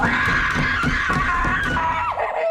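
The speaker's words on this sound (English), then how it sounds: "where Sydney Sweeney gets Sydney screaming." A woman screams in the 2024 horror film Immaculate, a long sustained shriek that holds steady and loud for over two seconds before dropping off with a wavering tail, backed by rumbling score.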